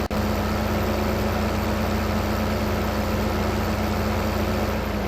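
Steady, loud low engine drone of a 600-horsepower tractor idling in the farming game Farm Simulator 15, continuous and unchanging with no talk over it.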